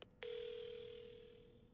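A phone in the horror video game Paranormasight gives a short click and tone, then a single steady electronic beep that holds for over a second and slowly fades.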